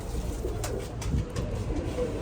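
Pigeons coo repeatedly at close range against steady background noise, with soft low calls recurring through the stretch.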